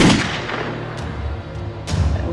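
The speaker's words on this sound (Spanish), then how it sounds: "Jiménez no logra abrir la puerta con su mano, entonces gatilla el cuarto disparo." A gunshot sound effect for a shot fired at a door: a loud, close boom that rolls into a rumbling tail, with a further sharp crack and thump near the end.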